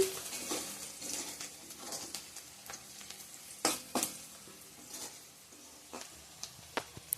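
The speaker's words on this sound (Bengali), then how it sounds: "পেঁয়াজগুলো এখন ব্রেস্তা করে নিচ্ছি।" Onions frying in a pan for birista, a soft continuous sizzle with stirring scrapes and sharp metal clinks of utensil against the pot, fairly quiet and close.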